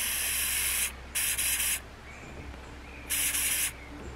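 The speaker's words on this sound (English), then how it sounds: "And then when it starts sinking, you just spray it again." Silicone floatant hisses from an aerosol can onto a fly fishing indicator in three loud, close bursts, two quick ones then a longer one after a pause, with no talking.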